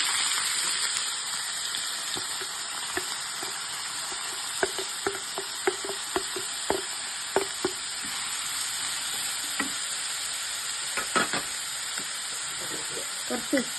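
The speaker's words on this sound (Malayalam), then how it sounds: "നമുക്ക് വെളിച്ചെണ്ണ ഒഴിച്ചു കൊടുക്കാം നമുക്ക് അരിഞ്ഞു വെച്ച സവാള ഇട്ട് കൊടുക്കാം" Chopped onions fry in hot coconut oil with a loud continuous sizzling hiss, while a spoon taps and scrapes the pan in scattered knocks as they are stirred; no one talks.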